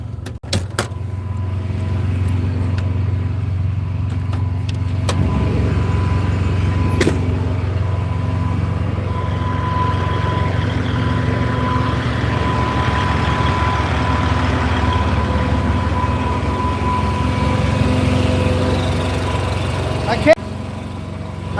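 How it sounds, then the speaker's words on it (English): A truck pulls up beside a parked trailer, its engine a steady low rumble close by for the whole stretch, with brief knocks and a faint whistle on top. "there was a truck pulling up next to me"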